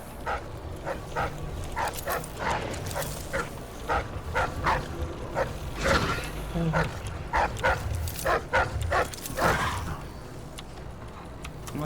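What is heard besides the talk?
dogs barking in video game Dishonored 2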